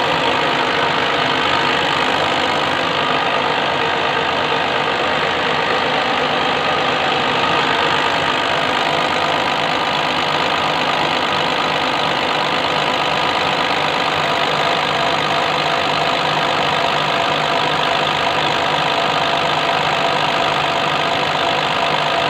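An Ashok Leyland BS3 diesel engine idles at 500 RPM, loud and close, with a steady, dense rumble that holds without change from start to finish.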